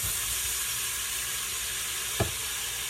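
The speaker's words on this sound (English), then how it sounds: "I'm just going to throw this in. You're going to hear it sizzle." Onion and garlic sizzle steadily in a hot pot, a constant bright crackling hiss with one brief knock partway through.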